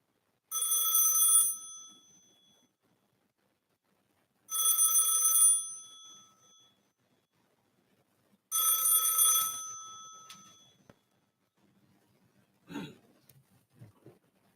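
A telephone rings three times at a steady interval, each ring a loud, bright electronic trill lasting about a second, followed by a few faint clicks and handling noises as the phone is disconnected.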